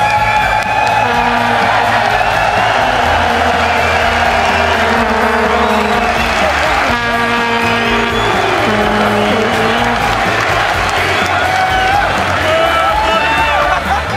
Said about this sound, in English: as you can hear, the audience just brings a whole level of energy